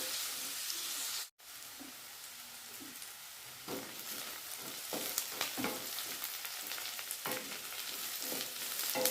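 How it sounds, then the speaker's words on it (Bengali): Garlic and green chillies frying in a pan, starting with a brief dropout and then building into a crackling sizzle with frequent sharp spits and stirring scrapes, heard close. "একটু গলা গলা হওয়া পর্যন্ত ভেজে নেব।"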